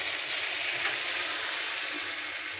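A steady, even hiss of spice paste frying in a small amount of oil: chilli, ginger-garlic paste, turmeric and salt, sizzling close up without a break.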